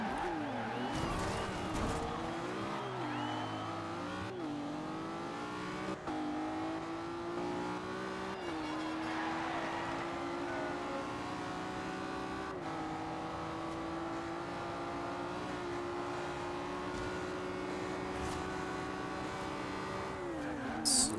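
A tuned race car engine in Forza Horizon 2 climbs through rising revs and shifts gear repeatedly, a sustained loud whine with tire squeal, accelerating hard with no talk.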